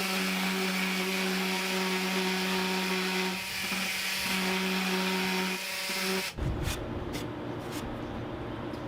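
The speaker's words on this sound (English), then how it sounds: "Now here we have the detail sander, handy to have in the tool bag for when you're cutting some trim off or you just need to smooth out an edge" A Black+Decker Matrix detail sander buzzes steadily at close range as it smooths a rough trim edge, its hum briefly dipping twice before cutting off partway through, followed by lighter handling sounds.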